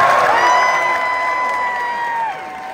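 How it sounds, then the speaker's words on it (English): A concert crowd at the Fonda Theatre in Los Angeles cheers and applauds loudly, with whoops and high shouts riding over steady clapping before easing off near the end. "big round of applause to all the parents here tonight"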